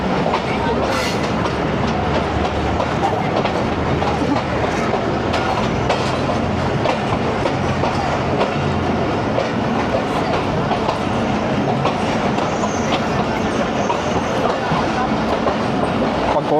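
Steady rumble and rhythmic clickety-clack from inside a passenger train running between Lahore and Narowal, loud and continuous, with faint voices now and then.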